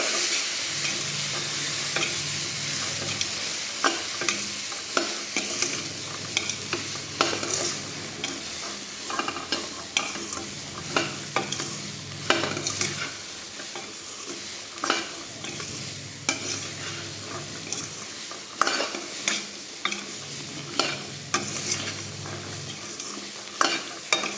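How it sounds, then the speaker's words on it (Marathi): Boiled sprouted chickpeas are stirred with red chilli powder in a pan, a steady sizzle under repeated scraping spoon strokes in a loose rhythm, close and alone without talk. "छोटा एक चम्मच लाल तिखट पावडर ॲड करत आहोत आणि ते व्यवस्थित मिक्स करून घ्यायचं आहे"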